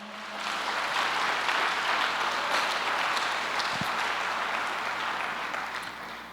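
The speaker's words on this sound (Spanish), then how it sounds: "¿Le puedes dar un aplauso a Dios en esta hora?" A church congregation claps steadily and loudly for about six seconds, a dense, even wash of hands that swells quickly and holds without a break before easing slightly at the end.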